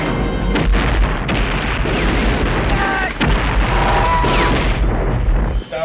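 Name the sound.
film explosion from bombing run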